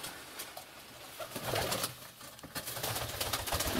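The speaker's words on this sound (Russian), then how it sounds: "Вот здесь прямо под столом гляжу сидит. Три голубенка." Several young pigeons sitting under a table coo softly and continuously, close by, over a rustling, noisy background, with no talking.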